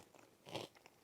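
A single crunchy bite into a chicharron, a fried pork rind snack, gives a brief close crackling crunch near the middle of a quiet moment with no talking.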